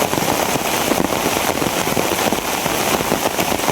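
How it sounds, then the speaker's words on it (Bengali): Heavy rain pours down in a loud, unbroken hiss with dense pattering drops, steady throughout with no voices. "কি পরিমাণে বৃষ্টি!"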